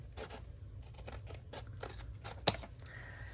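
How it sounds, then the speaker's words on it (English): Scissors snip through paper flaps on a creative journal in a quiet room, a series of soft, quick cuts with one sharper snap near the end, close and faint. "I think I can cut all these flaps off"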